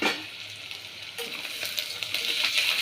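Palak rice with carrot being stirred in a hot pan gives a steady soft sizzle, with scraping and stirring swells growing louder near the end; no one speaks.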